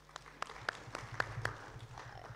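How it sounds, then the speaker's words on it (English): At an international conference on Russia-Africa relations, a small audience gives the speaker a round of applause, sparse, scattered claps with a few sharper hits, fairly close and quiet. "Let's give him a round of applause."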